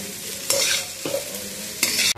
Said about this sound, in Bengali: এই মশলাটা দিয়েই কিন্তু চাউমিনটাকে খুব সুন্দর করে ফ্রাই করে নিতে হবে